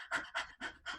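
A person's voice imitates a dog panting: four quick, breathy huffs in an even rhythm, close and fairly quiet.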